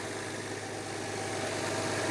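A 2018 Subaru Outback 3.6R with its horizontally opposed flat engine idles under an open hood, a steady, smooth, quiet hum with a low rumble holding even throughout.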